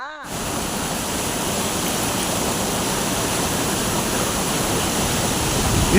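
A constant roar of the Bikkanappalli waterfall in Krishnagiri, loud and close, steady broadband rush with no break and no talking.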